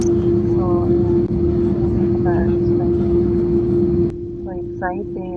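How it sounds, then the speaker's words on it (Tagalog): An aeroplane preparing to depart, heard from inside the cabin as a steady loud engine and air hum with a persistent whine, while people talk over it; the roar drops slightly toward the end. "nagprepara na tayo para mag-depart ng ating aeroplano"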